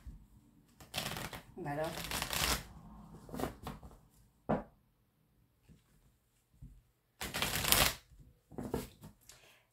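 Tarot and oracle cards shuffled in bursts of riffling flutter and soft slaps, with quiet gaps between, a voice speaking briefly between the shuffles.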